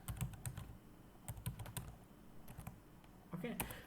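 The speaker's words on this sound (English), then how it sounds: "I will type out MS config and I will press enter" Typing on a Lenovo laptop keyboard running Windows 10, quick irregular key clicks in short bursts with a firmer press near the end, close and fairly quiet.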